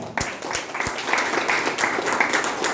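A seminar crowd applauds Mr Sunil Kumar Yadav, starting with a few sharp separate claps that quickly build into continuous, fairly loud clapping from many hands.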